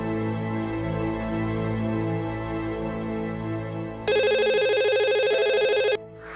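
An office telephone rings loudly with an incoming call, a bright electronic ring lasting about two seconds near the end and sitting over steady background music.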